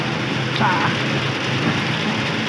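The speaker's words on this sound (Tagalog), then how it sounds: "Ang lakas ang ulan mga idol, oh." Heavy rain suddenly pours down during a tricycle ride, a dense, steady roar of drops drumming on surfaces, loud and close throughout.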